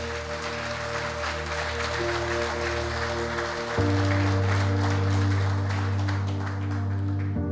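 Congregation in a church applauding, a broad wash of clapping heard over sustained organ or keyboard chords that swell louder midway.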